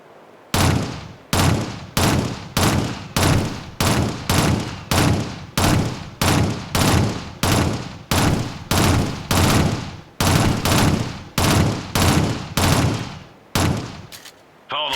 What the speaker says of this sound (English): This time fire in short bursts. Try to keep all your shots on the target.